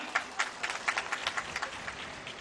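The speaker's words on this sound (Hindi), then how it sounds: "इनके लिए जोरदार ताली मारना है" Crowd at a tribal conference in Bijapur clapping, a moderately distant, fairly quiet patter of scattered handclaps that rises into a brief uneven burst, with no voices over it.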